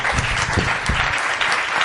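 Strong applause from the audience at a comic convention round-table panel in Getxo, a dense crowd clapping loudly and continuously, with some low thumps of handling or movement underneath.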